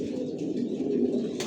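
A continuous low murmur of cooing comes from original racer pigeons kept in a rooftop loft, several birds overlapping close to the listener, with a brief brighter rustle at the end and no voices.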